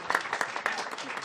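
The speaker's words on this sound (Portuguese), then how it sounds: "Vamos aplaudir Jesus" Audience at an aquatic park event applauding, a short burst of dense clapping with a few sharper individual claps standing out, fairly close and lively.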